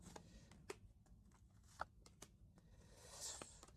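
Tarot cards are shuffled and drawn, with soft riffling and a few sharp card snaps spread across a quiet, close-miked moment.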